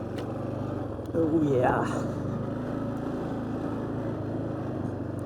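An old five-speed four-wheeler ATV engine running steadily at a low, even drone, with a brief rev near the start and a short spoken remark over it.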